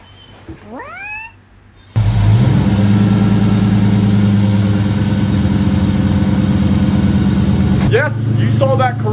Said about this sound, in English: That is a 1UZ Lexus V8 in a Chevrolet fleet line.